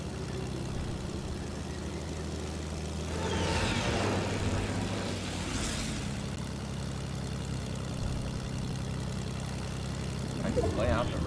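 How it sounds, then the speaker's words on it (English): An airplane engine drones in Fortnite, a steady propeller hum with a whooshing pass swelling and fading in the middle. "Where'd that plane come from?"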